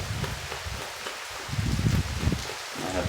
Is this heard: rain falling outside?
yes